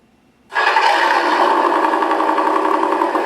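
An electronic RC sound controller, a Beier USM-RC-2, plays a simulated engine start that bursts in abruptly after near silence and settles into a steady, loud, buzzing idle with no voices.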